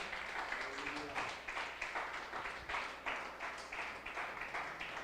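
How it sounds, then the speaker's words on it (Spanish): Church congregation clapping rhythmically at a Sunday service, a steady series of fairly faint hand claps repeating at an even pace with low background murmur. "Dele ese fuerte aplauso a Dios."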